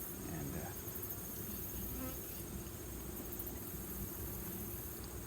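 Honey bees in a top bar hive make a dense, steady buzzing drone that holds at an even, fairly loud level throughout, with no voices over it.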